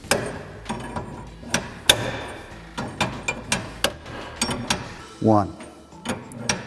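A wrench turns the preload adjustment nut against the spring on a John Deere Gator track carriage, giving a run of sharp, irregular metallic clicks and knocks close by, with a voice speaking briefly.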